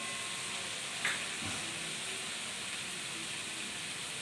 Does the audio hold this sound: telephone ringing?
no